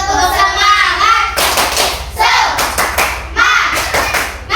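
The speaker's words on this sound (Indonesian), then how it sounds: "mari sama-sama kita tepuk semangat dulu" A classroom of children performs a rhythmic clapping chant, bursts of group hand claps in a patterned beat alternating with loud chanted young voices, close and lively.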